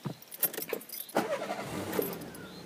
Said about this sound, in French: Alors forcément, c'est une 60 chevaux, donc quand on démarre